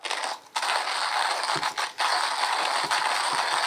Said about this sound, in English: we thought it would be fun to see how fast Grant can grind this coffee